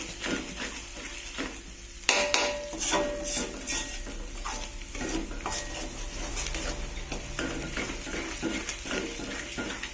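Turmeric rice mixture being stirred in a pan for yellow grilled rice with chicken intestines, liver and gizzards, giving repeated scraping and soft sizzling with clinks of utensil on pan over ten seconds, with no talk.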